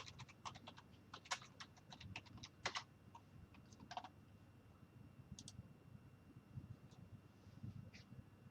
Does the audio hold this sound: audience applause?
no